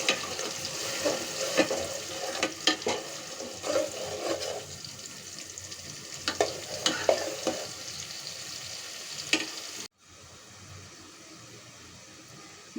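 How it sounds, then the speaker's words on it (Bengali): Spices for a mixed vegetable curry sautéing in hot oil: steady close sizzling broken by repeated scraping stirs, then a sudden drop to quiet near the end. "এখন আমি তেলের পরে মশলাটা কষাবো।"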